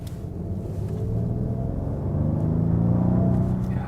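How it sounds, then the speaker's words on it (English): Rolls-Royce Wraith V12 engine accelerating, heard from inside the cabin: a deep, smooth low rumble that swells gradually and steadily louder over a few seconds, with no talking. "If you want to hear it, how it sounds on the inside and how the performance is, I can now also push the throttle."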